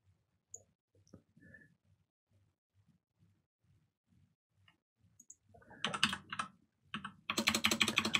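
Bursts of rapid typing on a computer keyboard, close and fairly loud, with dense clicking keystrokes clustered near the end after a stretch of faint isolated taps.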